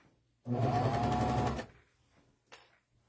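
A sewing machine runs steadily for about a second, stitching a strap into the seam of a homemade breastfeeding bra, then stops; a short faint clatter follows, with no talk.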